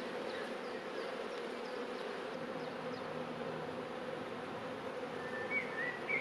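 Disturbed honeybees swarm around an opened hive, a dense, steady buzzing heard close up without talk.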